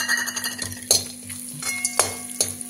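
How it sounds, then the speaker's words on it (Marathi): Nutmeg roasts in oil for a Kolhapuri onion-garlic masala chutney, giving a soft crackling fry punctuated by several sharp clinks of a utensil against the pan, close and without speech. "आता हे आपण जायफळ पण तेलामध्ये भाजून घ्यायचे"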